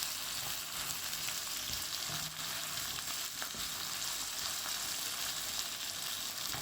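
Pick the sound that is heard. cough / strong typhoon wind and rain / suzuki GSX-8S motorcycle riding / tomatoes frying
tomatoes frying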